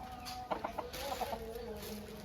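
A rooster named Raja clucks in short bursts, two quick runs of soft clucks close by at low volume over a steady background hum.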